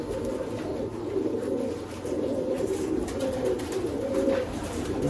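Sialkoti pigeons coo in low, repeated rolling phrases, close and steady over a constant background hum, with no talking.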